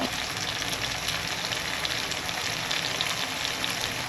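Tomatoes sauté in oil with a few crystals of salt for a Tamil chicken kuzhambu, producing a dense, even sizzling hiss that stays steady and close throughout without any pause.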